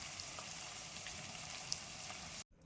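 Pieces of fish fry in hot oil in a pan with a bay leaf and a whole dried red chilli, giving a steady, soft hissing sizzle that cuts off abruptly near the end.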